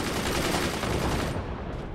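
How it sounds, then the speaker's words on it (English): Rapid machine-gun style fire in the Forts video game, a dense loud burst of shots that cuts off abruptly. "They're already firing shots?"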